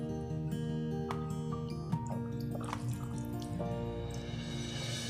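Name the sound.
squeezing water-soaked phulkiyaan and dropping them into yogurt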